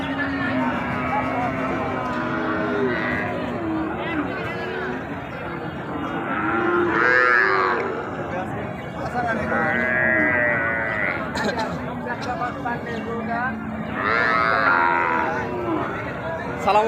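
Cattle and young bull calves of Indian and Sahiwal breeds low repeatedly at a livestock market, loud moos coming in several bursts over steady crowd chatter and people talking nearby.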